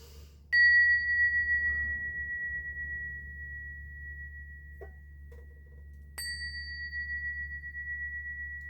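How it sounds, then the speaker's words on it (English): Bell rung twice several seconds apart, each strike a clear bright ding with a long, slowly fading ring over a low hum. "I'm going to ring another bell"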